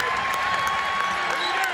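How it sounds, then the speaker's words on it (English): Bradley home crowd at a basketball game against Illinois State, a short burst of cheering and applause with an announcer's voice over it. "Bradley crowd is into it."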